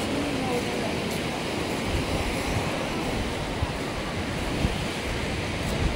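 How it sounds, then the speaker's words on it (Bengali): Sea waves roll steadily onto the beach at Digha under gusting wind, a dense, continuous roar of surf and wind noise that stays loud and even throughout. "এখন আবার আরও জল বেড়ে গিয়ে আর প্রচুর ঢেউ দিচ্ছে"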